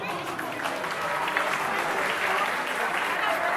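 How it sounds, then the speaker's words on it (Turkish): Wedding guests in a hall clap steadily and loudly in sustained applause for the young couple, with voices and crowd noise mixed in. "O kocaman alkışlarımız devam ediyor."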